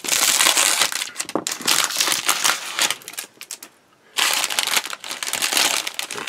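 Plastic bag crinkles loudly and close up as model kit parts for a 1/35 Meng Chieftain tank are bagged, in dense crackling bursts with a brief quiet pause midway.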